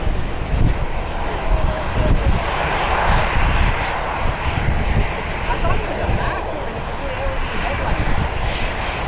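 An old Eastern Airlines Boeing 767 taxiing out at Columbus, its jet engines giving a loud, steady rumbling roar with wind buffeting the microphone and faint background chatter.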